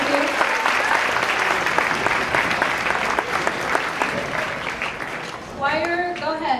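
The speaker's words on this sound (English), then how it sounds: "Give them a round of applause." Sustained applause from an audience at a high school combined winter concert, steady dense clapping filling the room for several seconds, with voices emerging near the end as it fades.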